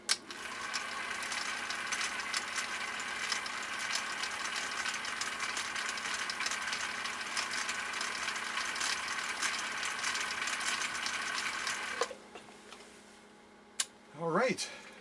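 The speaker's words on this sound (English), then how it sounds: "So now I'm re-engaging the slow gear, and I'm going to go ahead and finish off this last line of stitching." A 1959 Husqvarna Viking CI-21A sewing machine stitching in slow gear gives a steady, close mechanical whir with fine rapid ticking for about twelve seconds, then stops; a brief faint voice-like sound follows.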